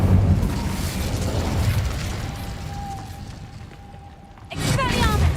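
The Incendio fire spell in Hogwarts Legacy: a dense, roaring whoosh of flame that fades over several seconds, then a fresh burst flares up loud near the end.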